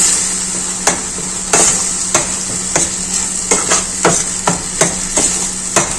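A mushroom gravy with chili, coriander and turmeric powders is sautéed in a pan, giving a loud, steady sizzle punctuated by regular sharp knocks of a spatula against the pan, with no voices.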